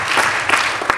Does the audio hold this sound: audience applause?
yes